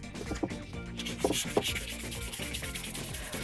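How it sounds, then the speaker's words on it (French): Fine 1200-grit abrasive rubbing over an oxidized steel jeweler's bench block, a steady close scratchy sanding with a few sharper strokes standing out, no voices. "maintenant je vais passer au grain 1200"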